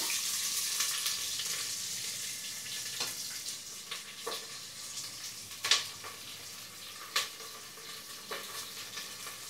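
Onions fry with spices in hot oil for a green chilli egg pulao, giving a steady, soft sizzle broken by a few sharper clinks and stirring scrapes. No one speaks.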